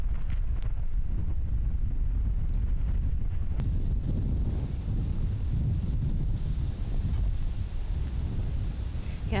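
Strong outdoor wind buffets the microphone at the 2021 Vintage Open disc golf tournament, producing a constant low roar and rumble that lasts the whole stretch with no talk.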